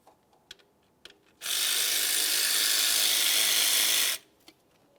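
A 13mm ratchet spinning a bolt out on a Volkswagen Jetta during a timing belt tensioner job. It makes a dense, steady clicking burst for nearly three seconds, close by, framed by a few light taps before and after.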